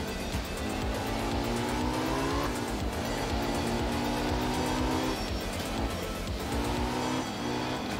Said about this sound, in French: pas ultra fan du son du flat 6 de cette Porsche